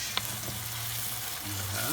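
Coconut milk is stirred into tomato sauce in a pan for shrimp, a steady close frying sizzle with a faint tap and light stirring, no talk.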